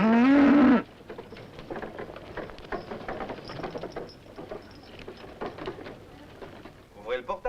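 A cow gives one short, low moo up close, then soft rustling and scattered patter carry on with faint voices in the background.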